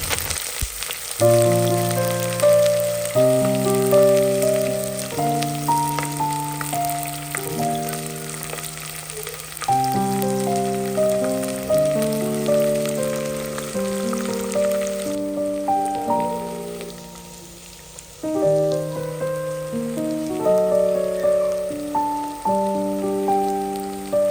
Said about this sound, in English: now he's adding his onions in there, and he's going to cook it until it turns brown